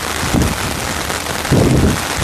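Steady rain falling outdoors during street flooding, a constant broadband wash with wind buffeting the microphone, plus two louder low gusts or splashes near the start and two-thirds through.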